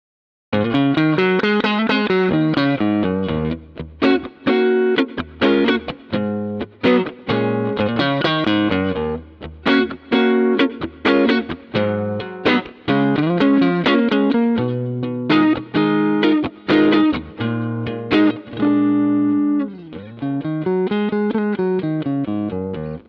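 An electric guitar plays melodic phrases through a Roland JC-120 amp plugin on channel 2 with the vibrato off, giving a clean tone with short pauses between phrases.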